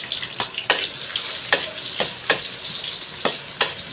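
Garlic and then onion sautéing in a pan, cooked with avocado for pechay. A soft sizzle runs under sharp scraping spatula strokes that come at a steady, regular pace, close up.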